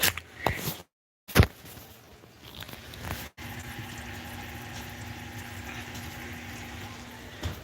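Salmon simmering in plenty of water in a pan gives a bubbling, sizzling hiss that settles into a steady boil after a brief clatter and a gap, close up with no talking.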